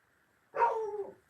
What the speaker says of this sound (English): Those are my dogs. They're barking at something.